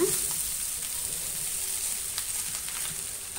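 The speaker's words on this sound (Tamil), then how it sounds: "சாதம் வந்து கொஞ்சம் உடஞ்சிடாத மாதிரி கிளறி விடுங்க" Chicken fried rice sizzles in a pan under a soft, steady hiss of frying, with faint scrapes and taps from a stirring utensil and a sharper knock at the end; nobody speaks.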